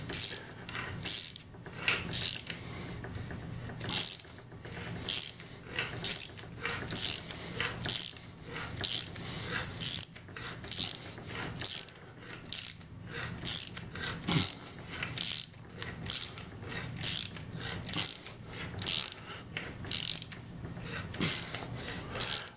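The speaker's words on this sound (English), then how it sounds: "I used a regular tap just because I thought it would cut in easier." A regular tap cuts threads into a half-inch hole drilled in a cam. It gives a steady run of repeated ratcheting, rubbing clicks in an even rhythm, close and moderately loud, with no talking.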